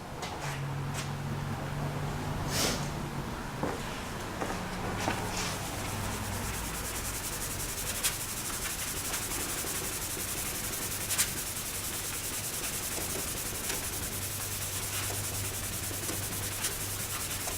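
Quiet, steady rubbing of an applicator pad spreading Meguiar's wax over car paint, a soft continuous friction swish with faint scattered ticks and no talking.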